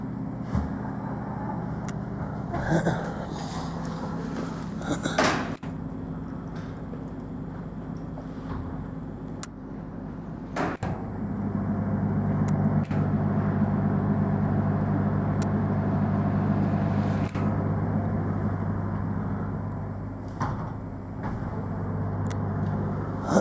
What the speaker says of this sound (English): A little B-roll of the buses leaving.